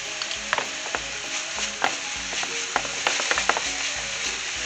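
Crushed red pepper flakes hit a hot oiled pan for vodka pasta and sizzle steadily, with small scraping and stirring clicks scattered over the constant frying hiss.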